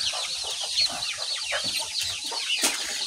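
Chickens cluck and chatter continuously at a chicken farm, a dense flock of overlapping calls with occasional louder squawks, close and steady.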